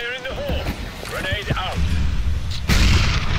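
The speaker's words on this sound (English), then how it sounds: "Oh, that nade, oh my goodness. That does so much damage." A grenade explodes in a CS:GO match at the Boston Major 2018, a sudden deep blast near the end of the clip following excited commentary voices.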